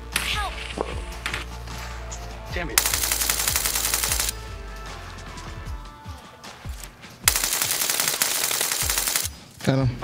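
Loud bursts of automatic gunfire in the PUBG Mobile video game, fired in rapid strings that alternate with short pauses and single cracks. Voices talk over parts of it.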